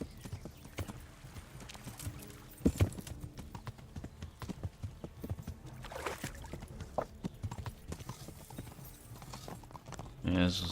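Horse hooves clip-clopping at a fast pace in the video game Kingdom Come Deliverance, steady rhythmic beats over faint background sound, with a brief louder burst near the end.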